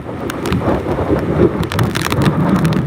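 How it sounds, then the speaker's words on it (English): A strong gust from Typhoon Hagibis roars and buffets the microphone outdoors, a loud rough continuous rush that swells and ebbs with no speech. "And that's a huge wind gust."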